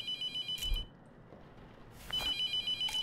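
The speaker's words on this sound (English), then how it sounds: "I don't give a fuck what you have to say on the phone. That shit can ring all fucking day." A telephone rings in the horror game The Mortuary Assistant, two bursts of a bright electronic trill separated by a quiet gap, fairly faint against a low ambient hum.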